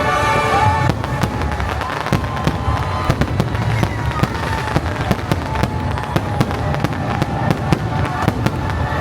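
Fireworks at Disney's Magic Kingdom go off in a rapid, irregular string of sharp bangs and crackles, some close and loud, over a rumbling background with faint crowd noise.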